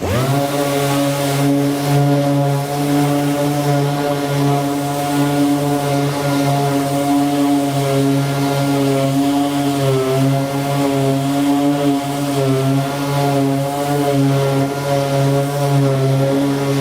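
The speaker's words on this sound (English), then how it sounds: "we'll change over and sand the same thing with the suction, with the vacuum turned on" A Milwaukee sander grinds Bondo body filler with a Milwaukee 8960 dust extractor vacuum running, giving a loud, steady, close motor drone with a buzzing tone that holds unbroken throughout.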